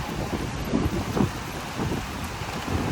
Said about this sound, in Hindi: भाई यहाँ पे बारिश होने लग गई यार।